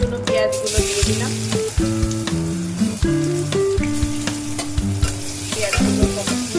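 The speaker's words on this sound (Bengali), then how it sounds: "পেঁয়াজগুলো ভাজা হতে থাক," Onions frying in hot oil with bay leaf and cumin tempering in a pan, a steady close sizzle broken by repeated scraping and clanking of a spatula stirring against the metal pan.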